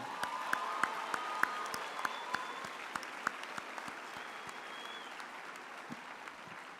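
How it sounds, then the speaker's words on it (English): Graduates at a ceremony applaud themselves, a soft, distant wash of clapping with a few sharper individual claps near the start that slowly thins out. "give yourself again a warm hand of applause"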